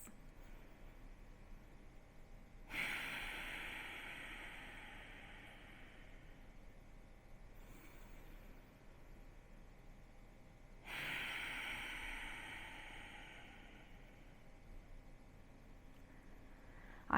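Slow, deep breaths during a quick yoga break: two long, soft breath swells about eight seconds apart over a quiet background hiss.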